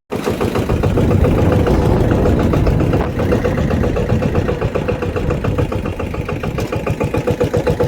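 A tractor engine running close by with a loud, steady diesel rumble and rapid regular firing pulses, holding even for the whole stretch with a slight change in pitch midway.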